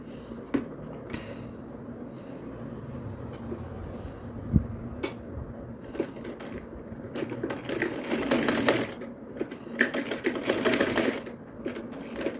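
Sewing machine stitching pieces of cloth together for a chapati napkin, a steady fast mechanical whirr with clicks and short pauses, growing busier and louder in bursts toward the end, close and with no talking.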